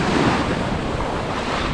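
Ocean surf at Alegria Beach on Siargao Island in the Philippines, a continuous loud broadband wash of waves mixed with heavy wind buffeting on the microphone, with no voices.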